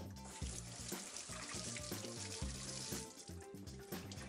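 Tap water runs steadily into a kitchen sink as hands are rinsed while croquettes are being made, a continuous close splashing trickle with no talking.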